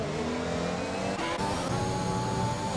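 Race cars in a racing game at the Hungary circuit, a steady loud engine drone with tonal whine rising in pitch as they accelerate, continuous and close with no speech.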